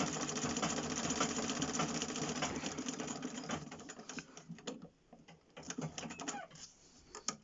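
A sewing machine stitching a homemade fabric face mask runs in a fast, continuous whir close by, then slows into short stop-start bursts of stitching toward the end.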